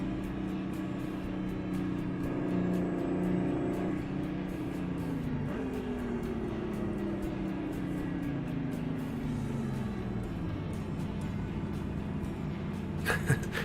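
Mack Type R truck engine in American Truck Simulator, a steady low droning hum with slowly shifting pitch as it gears and slows, moderately quiet and continuous, with a short clatter near the end.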